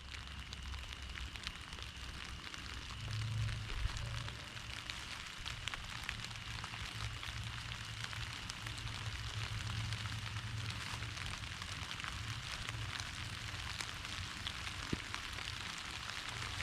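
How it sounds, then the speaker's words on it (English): Steady rain falls through night woods near old Civil War trenches, a constant soft hiss with occasional louder drops, unchanging and fairly faint throughout with no voices. "It's raining pretty good out now."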